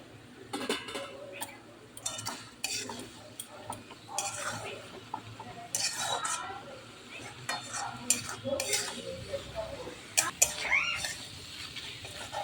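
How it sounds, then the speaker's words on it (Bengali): Red amaranth greens with peanuts and poppy seeds stirred in a pan: irregular clinks and scrapes of a utensil against the metal over a faint sizzle, close and fairly quiet. "এবার এটা একটু নেড়ে দেব।"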